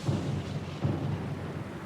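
Thunder in a storm at sea in the video game Pillars of Eternity 2, deep rolling rumbles with two heavier booms, steady and fairly loud, alone without voices.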